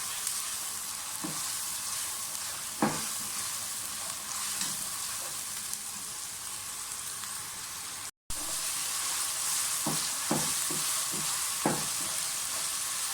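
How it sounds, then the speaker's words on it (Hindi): A steady hiss of onion, ginger and garlic paste frying fills the clip, with occasional stirring scrapes and clinks against the pan, close and continuous with no voices. "साथ ही इसमें लहसुन अदरक का पेस्ट डाल दें। अच्छी तरह से फ्राई कर लें सब चीज़ों को।"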